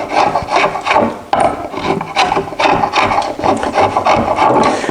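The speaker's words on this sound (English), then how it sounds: "But if you set this up, then you have a real good glue scraper." Glue being scraped off wood boards with a glue scraper while making cutting boards: loud, close, rhythmic rasping strokes, roughly two per second, with short pauses between passes and no talking.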